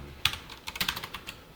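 Typing on a computer keyboard while entering product prices into HTML/CSS code, irregular clicky keystrokes in short bursts, close and moderately loud, no talk.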